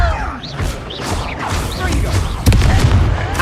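A Depulso spell goes off in Hogwarts Legacy amid a loud battle, with rumbling booms, whooshing bursts and a sharp crashing impact near the end over continuous combat noise.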